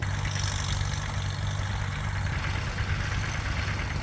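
A Farmall 350 LP tractor engine idles steadily, a continuous low, even rumble running close and unchanging throughout with no talk.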